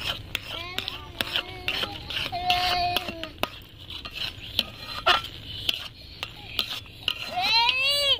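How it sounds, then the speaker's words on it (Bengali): Stirring semolina into a mashed lentil dough in a metal pot for pakon pitha: scraping and knocking of a spoon against the pan in irregular bursts, close and moderately loud, with a few clinks. "অল্প অল্প করে দিয়ে এরকম নাড়তে হবে"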